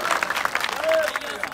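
An audience at a political rally applauds, a dense patter of clapping under a voice amplified over the crowd, steady and fairly loud throughout the short burst.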